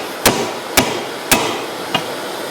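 A hammer strikes nails four times at a steady, slightly uneven pace, each sharp metallic knock ringing briefly. The blows are close and loud, and no one talks.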